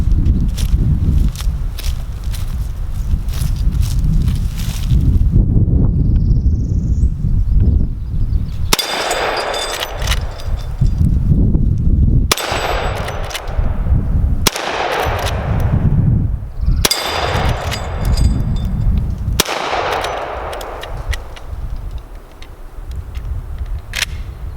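Marlin 1894 lever-action rifle firing .44 Special at steel targets outdoors: a run of loud, sharp shots spaced a few seconds apart, each followed by ringing steel clangs and the metallic clack of the lever cycling.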